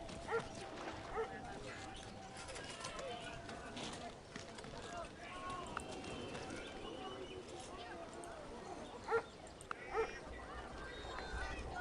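Faint, sparse hoof clip-clops and horse noises sound from Civilization 4 with the Caveman2Cosmos mod. The isolated knocks are spread over a quiet game soundscape, and a voice may be present.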